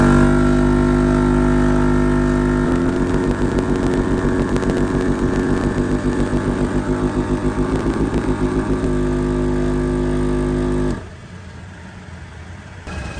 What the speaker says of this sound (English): let's air up and see how long it takes us to air up these 30-inch tires